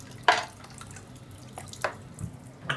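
Tap water runs in short bursts into a sample container, with a few splashy gushes and drips spread through otherwise quiet moments.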